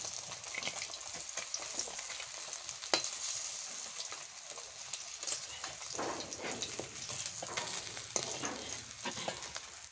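Rohu fish pieces fried deep red crackle and sizzle steadily in oil, with occasional knocks and scrapes as they are lifted out of the pan one by one.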